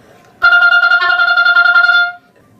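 A quick run of rapidly repeated, crisply double-tongued oboe notes, bright and close, lasting under two seconds.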